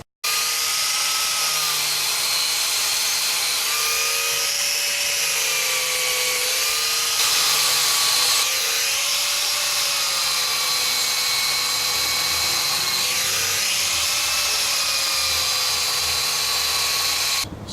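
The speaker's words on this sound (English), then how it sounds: "we used a diamond blade grinder. We grind them in about 3/4 of an inch." A diamond-blade grinder cuts out cracked mortar between bricks about three-quarters of an inch deep, a loud continuous high-pitched whine with slight pitch dips as the blade bites, steady throughout.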